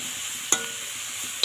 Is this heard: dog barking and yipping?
no